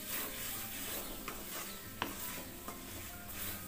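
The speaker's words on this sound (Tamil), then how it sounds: "நல்லா துருவின தேங்காய் 1 பத்தை நல்லா மிக்ஸ் பண்ணி விடுங்க" Grated coconut being mixed into a dish, soft rubbing and scraping of a spoon in a pan with a couple of light taps, quiet and close.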